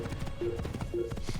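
Horse hooves clip-clopping at a gallop in the Assassin's Creed video game, a quick steady beat with light game background sound and no talking.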